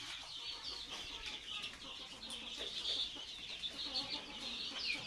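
Sonali Classic chickens on a farm cluck and chatter continuously at a low level, with several birds overlapping and no clear voices.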